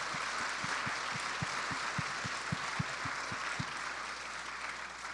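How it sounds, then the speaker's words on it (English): Audience applause for a panel of young people at a youth online-safety panel event, a steady wash of clapping lasting about five seconds, moderately loud, with no talking over it. "Could we just give them a round of applause?"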